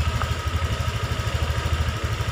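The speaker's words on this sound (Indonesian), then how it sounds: "Kita hidupkan motor juga." A Honda Vario 150 scooter engine idles steadily close by after starting, a loud even low throb with a rapid regular pulse and a slightly rough running note, with no voices.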